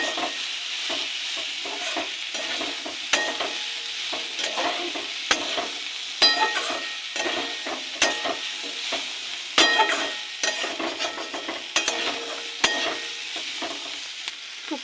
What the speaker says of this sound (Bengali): এবার ভেজে রাখা চুনো মাছটাকে দিয়ে দেবো ছড়িয়ে